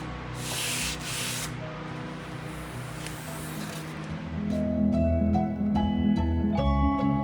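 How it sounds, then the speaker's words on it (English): Diablo sanding block rubbed over an antique wooden desk, steady close scraping strokes that grow louder and rougher partway through, with no talk. "I found these new sanding blocks, or new to me, by Diablo."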